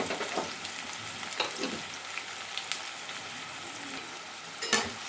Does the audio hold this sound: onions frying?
yes